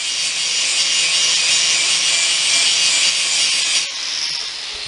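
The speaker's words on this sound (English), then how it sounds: "just pull this bolt out and take the grinder and just grind that off" An angle grinder cuts through a steel bolt on a go-kart steering assembly, a loud, steady high-pitched grinding whine running nearly five seconds before easing slightly as the disc lightens off the metal.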